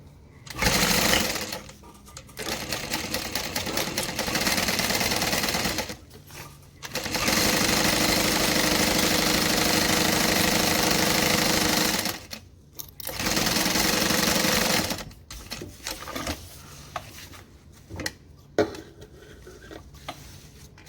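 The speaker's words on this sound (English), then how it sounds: "We're going to sew all the way down the side." A sewing machine runs in several sustained bursts while stitching a fabric seam down the side of a garment, loud and close, with short pauses between runs and some handling clicks near the end.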